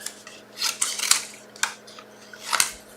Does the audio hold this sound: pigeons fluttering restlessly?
no